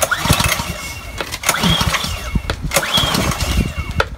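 A Ryobi 2900 PSI gas pressure washer engine is pull-started cold on choke, giving three rough surging bursts of loud nearby engine noise about every one and a half seconds without settling into a steady run.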